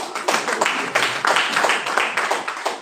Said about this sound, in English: Clap for us now